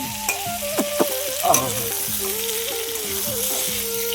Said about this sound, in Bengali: এখন ভাজছি আলু আর পটলটা